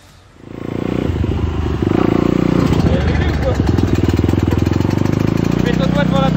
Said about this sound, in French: il y a un peu beaucoup de circulation aujourd'hui dans la zone